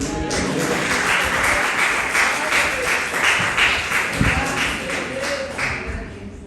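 A church congregation at a Saturday service applauds in sustained, dense clapping that swells and holds, with faint voices underneath.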